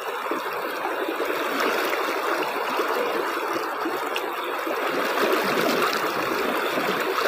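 Strong river current rushing steadily, a dense, broad wash of flowing water heard up close and continuous throughout with no talk over it.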